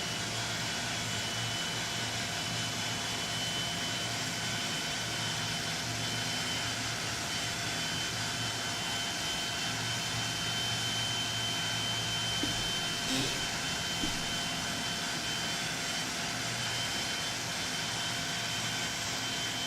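A jet engine spools up in the X-Plane 12 flight simulator with a steady, loud whine and roar that holds evenly for the whole stretch, without voices.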